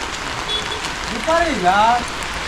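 Steady monsoon rain patters in the background in Konkan while a person briefly talks over it.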